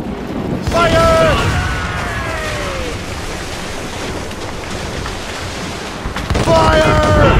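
Ship cannons boom in the naval combat of the video game Assassin's Creed Rogue, with heavy blasts over crashing waves and sea noise, and shouted crew commands near the start and end.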